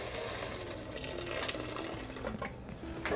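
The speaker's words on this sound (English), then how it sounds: "Now I'm gonna add my water. I've got 4 cups of hot water right here." Hot water pours steadily into a pot of fall vegetable soup, a continuous close gurgling stream with bubbling texture throughout.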